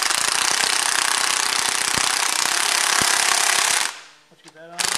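An air tool rattles in a loud, continuous hammering burst for several seconds while tightening bolts on a Super Cub aircraft, then cuts off abruptly, followed by brief clanks.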